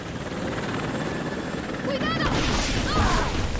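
A helicopter in the video game Rise of the Tomb Raider roars with loud rotor thumping and turbine whine, swelling as it closes in, with a shouted voice and impacts over it.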